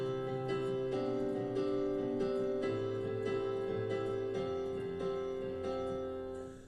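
A piano plays a looping chord pattern with a rhythmic left-hand bass part, sustained chords changing every second or so, loud and close with no talking, fading at the end.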